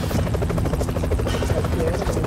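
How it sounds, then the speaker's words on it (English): Helicopter rotor chopping steadily through the whole stretch in the side-scrolling action game Broforce, loud and continuous with game effects layered on top. "I need a helicopter."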